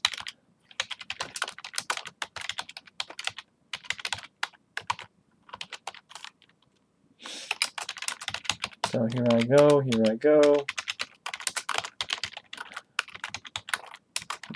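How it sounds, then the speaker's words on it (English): Fingers clatter on a computer keyboard while setting up a Visual Studio programming project, in quick bursts of close clicks broken by pauses, with someone speaking briefly between them. "My typing isn't always the best when I'm trying to think and talk at the same time."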